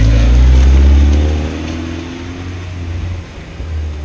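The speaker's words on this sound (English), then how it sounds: "Here it goes. My Miata's going bye-bye." A Mazda Miata pulls away, its engine loud at first and then receding over a few seconds as it drives off.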